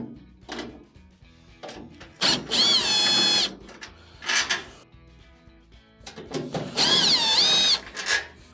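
A power drill backs Phillips screws out of a GE dryer in two loud, whining bursts about a second long, separated by quieter clicks and handling noises.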